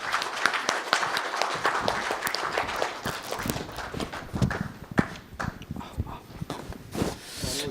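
An audience at a constitutional reform debate event in a Gwangju convention centre applauds to welcome speakers, with dense, irregular clapping that rises and falls continuously, fairly close.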